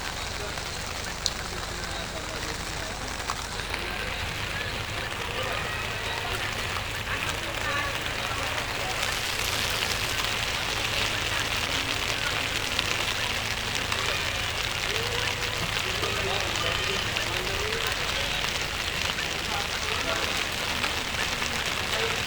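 Rain falls steadily during a procession in Santa Maria, Bulacan, spreading a dense, continuous patter across the whole stretch, with faint voices mixed in beneath it.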